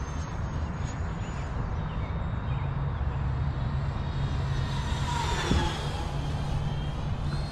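An FMS Integral 80mm EDF radio-controlled jet flies in gusty wind, its ducted fan whining continuously with a swelling pass overhead, under steady wind rumble and no talking.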